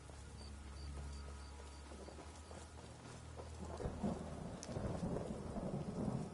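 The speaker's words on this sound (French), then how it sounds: "Il arrête pas de pleuvoir. Ça arrête pas de pleuvoir." Rain and rolling thunder in the video game Skyrim, a steady hiss of rainfall with a low rumble that builds and grows louder and more crackling in the second half; no talking.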